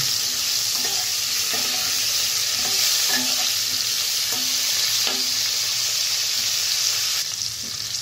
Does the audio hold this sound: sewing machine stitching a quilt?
no